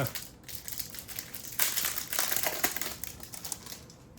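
A wrapped pack of promotional action cards for the Bunny Boom game being torn open close by: dense, crisp crackling and crinkling of the wrapper, growing louder midway through.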